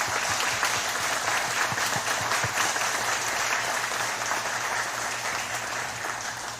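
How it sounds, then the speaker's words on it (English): An audience at an immigration Q&A public meeting gives a round of applause, even continuous clapping from many hands at moderate volume, holding steady and tapering off slightly toward the end. "can we give them a round of applause?"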